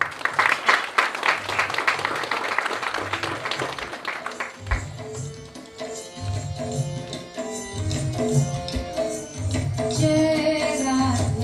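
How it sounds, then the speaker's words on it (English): Applause from a wedding ceremony audience, dense clapping for the first few seconds that gives way to music and singing, moderately loud. "Ladies and gentlemen, please give them a round of applause."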